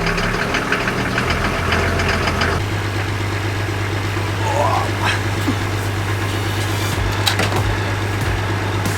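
A Toyota Land Cruiser Troopy engine idles on a cold morning after a cold start, with a loud, steady diesel rumble and knock that settles into a lower, even tone partway through, plus a few faint clicks over the top.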